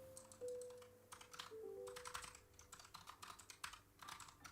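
Quiet computer keyboard typing, clusters of light rapid key clicks in irregular bursts with short pauses, close and alone over a faint electronic hum.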